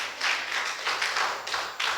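Congregation clapping during a Sunday church service in Itanagar, a steady rapid patter of many hands in a reverberant hall, moderately loud and continuous.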